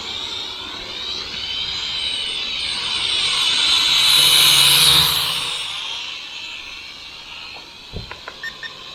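A Syma X5 quadcopter drone flies fast in its higher speed setting, its high whining rotor buzz swelling louder as it passes close and then fading, with a few short clicks near the end.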